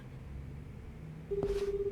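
A telephone is dialed in the video game Like a Dragon Gaiden: low background hum, then a steady tone with a short key beep near the end, loud and close.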